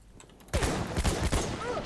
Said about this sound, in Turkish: Gerçekten siz silah sesi duymuyor musunuz?